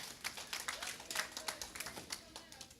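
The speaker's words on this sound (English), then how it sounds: "Clap for her, yeah." An audience claps for a commissioner at a community workshop on a parks and recreation master plan, giving scattered, uneven applause at moderate distance, with speech mixed in.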